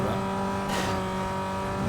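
Car engine revving hard in the racing game Need for Speed: Most Wanted (2005), a sustained loud drone with a brief swell partway through and no talking over it.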